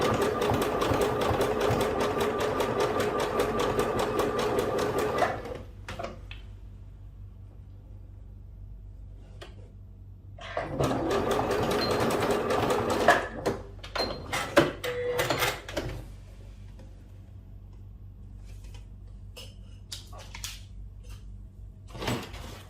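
A sewing machine stitches picot elastic onto a gusset seam in two loud, steady bursts of rapid running, separated by a quiet pause, followed by softer handling clicks and knocks as the fabric is pulled through.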